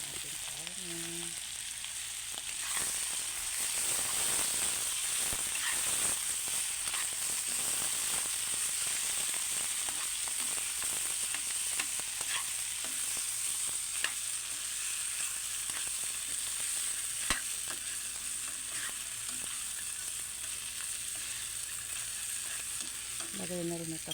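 Pork pieces for kaldereta sizzle and fry in a pan, a steady bright crackle with scattered pops and stirring clatter, close and continuous.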